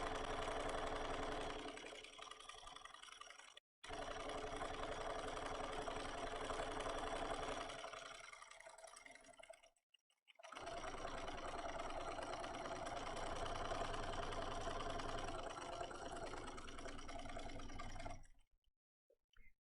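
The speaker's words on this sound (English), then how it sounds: "So now we can just sew pretty fast along this outside" A sewing machine stitches fast along the outside edge of a quilted placemat binding in Tula Pink True Colors fabric. Its motor makes a steady, close whirring drone that runs in three long bursts, with short pauses between them.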